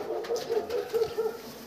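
Pigeons in a home loft give a steady, low, rhythmic cooing, several pulses in a row, moderately close with a hissy background.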